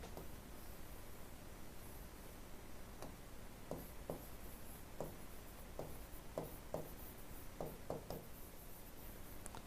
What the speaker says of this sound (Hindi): रेट ऑफ ब्रीथिंग लिख देता हूं।